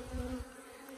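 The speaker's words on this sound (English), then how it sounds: "these are queen bees" Steady, close buzzing of queen bees and their attendant bees, a low droning hum with a fluttering texture that holds throughout.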